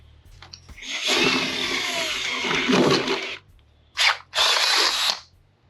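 A power drill bores a starter hole near the edge of a car's rear door panel for a custom speaker pod, a sustained whirring grind of about two and a half seconds followed by two shorter bursts.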